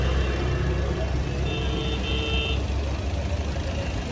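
A Maruti Ertiga CNG car engine runs steadily with a low, even hum and slight vibration, close and constant, with faint tonal beeps partway through.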